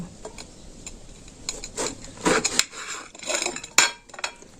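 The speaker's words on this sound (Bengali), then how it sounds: "প্রথমেই কিন্তু বেগুনটাকে আমি এই ছুরি দিয়ে এইভাবে কেটে নেব" A knife slicing through eggplant (brinjal) on a board, a series of soft scattered cuts and taps with small clicks, fairly quiet and close.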